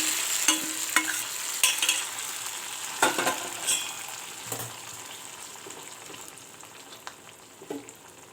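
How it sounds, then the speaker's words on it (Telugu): A hot fried tempering of onions, curry leaves and garlic is poured into amaranth-leaf dal. A close, crackling sizzle carries scattered metal taps and stirring scrapes that fade gradually toward the end. "వేగిన పోపు మనం ఇప్పుడు పప్పులో పోసేద్దాం."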